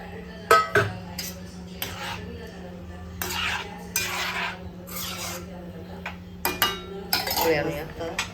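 Chickpeas tipped into a pot of simmering curry, with metal clinks and scrapes of a spoon against the pot in short separate bursts over a low steady hum, close and fairly loud, no talk.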